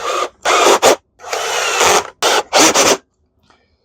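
A power driver runs motor screws back into an Oreck XL21 upright vacuum on a low torque setting, sounding as about five close, loud whirring bursts of varying length separated by short pauses, then silence.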